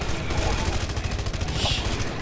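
Rapid gunfire in the Red Faction Guerrilla video game, a dense steady rattle of shots under continuous battle noise, moderately loud throughout with no pauses.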